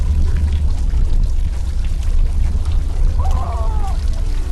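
Water splashes and gurgles as a player swims in the video game Animal Company, a loud, continuous sloshing wash with a brief watery warble near the end, no speech.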